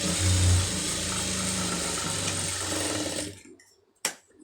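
A sewing machine stitches a blouse hook strip in a steady, close mechanical whir for about three seconds, then winds down to silence before a single sharp knock.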